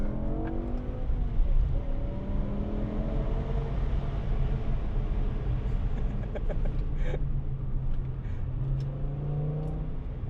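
BMW V10 car with an SMG gearbox accelerating and revving, a loud continuous engine roar with rising pitch sweeps between gear changes, heard up close from inside the car with no talking.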